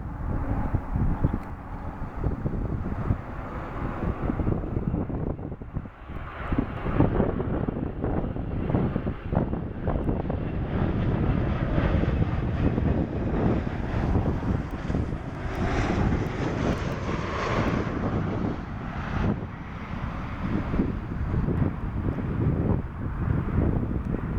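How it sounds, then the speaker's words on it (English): A United Express Embraer E145 XR regional jet comes in to land, its engine roar steady and fairly loud for the whole stretch, mixed with gusty wind buffeting the microphone; no voices. "Embraer E145 XR United Express come in."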